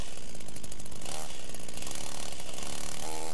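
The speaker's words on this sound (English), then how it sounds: "The sound of a chainsaw engine howled from somewhere." A chainsaw engine howls in the game Rebellions: Secret Game, a loud, rough, continuous buzzing roar with a rattling texture that stays dense and unbroken throughout.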